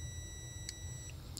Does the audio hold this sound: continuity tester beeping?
yes